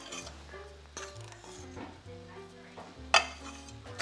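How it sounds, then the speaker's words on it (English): A spoon stirs peanut butter into a no-bake Christmas treat mixture in a bowl, with soft scraping and occasional light clinks against the side. Close and quiet, with a sharper knock near the end. "We'll stir that in,"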